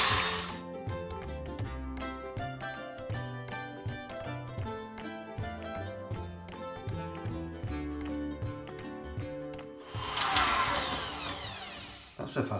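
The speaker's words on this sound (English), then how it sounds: "That's a fast mixer, isn't it?" An electric mixer whirs through pear custard tart filling with a steady mechanical hum, then bursts into a louder, harsher high-speed roar for the last couple of seconds.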